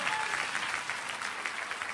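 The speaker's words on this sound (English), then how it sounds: "Give a round of applause." Faint, distant applause from a seminar audience, an even patter of many hands clapping that holds steady for a brief moment.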